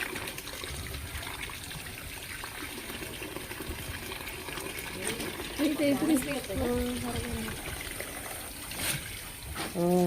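Water runs from a hose or tap in a steady, quiet trickle and pour outdoors. Voices talk briefly over it partway through and again near the end.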